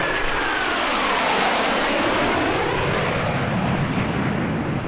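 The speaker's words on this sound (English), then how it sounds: "Monday saw a fly past by the US Navy Blue Angels with their FA-18 Hornets" US Navy Blue Angels F/A-18 Hornet jets fly past at the EAA AirVenture Oshkosh 2019 show, a loud, unbroken jet roar that fills the whole stretch with a slowly sweeping pitch.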